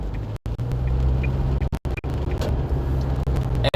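Car driving along a road during lockdown, a steady low engine and road rumble throughout with a few brief dropouts, no voices.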